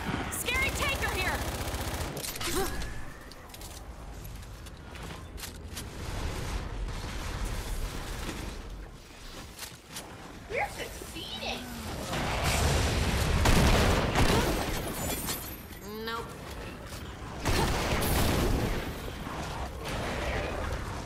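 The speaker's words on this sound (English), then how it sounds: "I'm gonna use my plasma cannon doesn't have much left" Rapid bursts of plasma cannon fire in a video game blast repeatedly with booms and mechanical clatter, dense and loud throughout.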